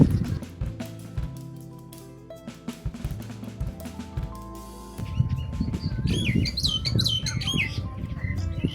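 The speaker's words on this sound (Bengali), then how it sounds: "এখানে দাঁড়িয়ে অনেক রকমের পাখির আওয়াজ আমার কানে আসছে" Many kinds of birds call around a sunny, windy riverside village at Char Kishoreganj by the Meghna, with chirps and squawks scattered over a busy outdoor backdrop that grows louder and denser in the second half.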